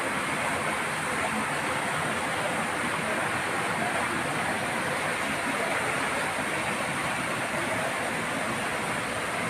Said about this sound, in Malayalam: നിറഞ്ഞൊഴുകുന്ന ഒരു അരുവി ബ്രൂക്ക്.